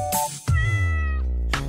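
A cat gives one clear, close, drawn-out meow that falls in pitch. Brief bursts of noise come just before and after it.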